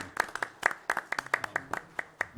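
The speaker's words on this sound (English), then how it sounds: "A round of applause." A small group claps at a county board of commissioners meeting, a brief burst of distinct, separate hand claps in an uneven rhythm, fairly sparse and close.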